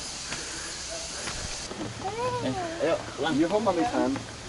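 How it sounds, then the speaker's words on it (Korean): A cat on a walk gives a few short, wavering meows close by, while people chat and laugh in the background, near a waterfall in Ubud, Bali. "고양이 산책은 또 처음 보네"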